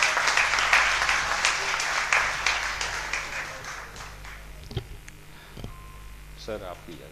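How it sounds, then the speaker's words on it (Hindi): Audience applause at a poetry book launch event in Bahawalpur, steady clapping from a crowd that fades toward the end over a constant low electrical hum. "आपके भरपूर तालियों में जनाब साजिद रहीम।"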